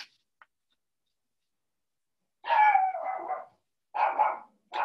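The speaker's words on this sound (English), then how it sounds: "She barks at nothing." A pet dog barks in a quiet indoor room, giving a couple of close, loud bursts of barking separated by silence, with no voices.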